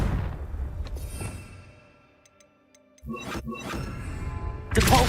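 A Confringo fire spell in Hogwarts Legacy bursts in a deep booming explosion, then a second heavy blast follows after a near-silent pause, with ticking game effects in between.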